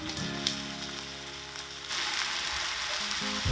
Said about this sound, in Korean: 우유 100ml 정도 부어주고